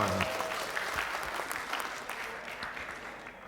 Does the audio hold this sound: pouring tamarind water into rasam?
no